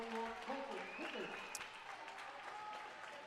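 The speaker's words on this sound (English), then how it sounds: "And the crowd goes wild for Logan Puck." Basketball crowd at a WIAA regional boys high school game cheering and applauding loudly after a made free throw, a dense roar with a commentator's voice talking over it throughout.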